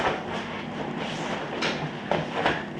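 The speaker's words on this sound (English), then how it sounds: "You can hear the air going out of it already." A steady, close broadband hiss of air rushing out of an opened valve on a deflating Exped Downmat UL 7 sleeping pad, with a few brief louder surges and no talking.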